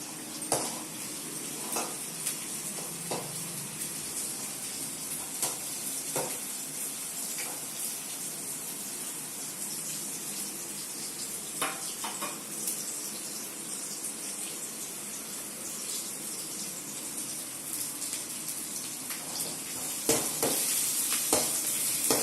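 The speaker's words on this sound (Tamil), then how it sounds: "வெங்காயத்தை நல்லா வதக்கணும்." Onions sauté in a pan of hot oil for a Tamil dried-fish curry, giving a steady, moderate sizzle with scattered stirring scrapes and clicks that lasts throughout, slightly louder near the end.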